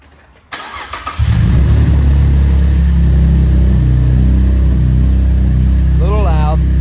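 A car engine, freshly repaired with its oil pump refitted, cranks briefly and catches, then settles into a loud, steady close-up running rumble, with a short voice near the end.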